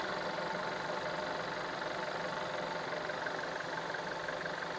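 A car engine warming up at idle, a steady, even running drone without changes in pace, heard alone and at moderate level.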